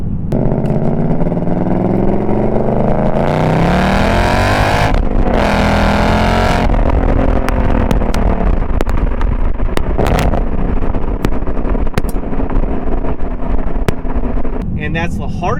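A 2024 Ford Mustang GT Premium with a 6-speed manual and a re-engineered exhaust roars loudly and close, its engine note rising and falling through revs, while someone talks over it.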